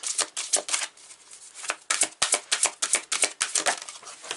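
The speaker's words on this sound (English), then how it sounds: "I'm going to pick 2 cards from here." Tarot and oracle cards being handled and shuffled close up, with a quick irregular series of crisp riffling slaps and flicks.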